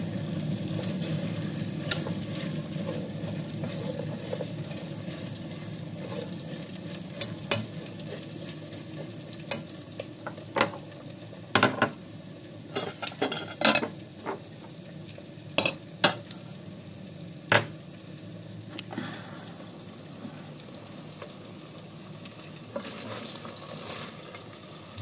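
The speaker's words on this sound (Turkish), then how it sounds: "Hemen bezelyelerimi sotelenmesi için tencereme bırakıyorum" Steady sizzling of peas sautéing in a pot with occasional metallic clinks and scrapes of a spoon stirring, close by and without talk.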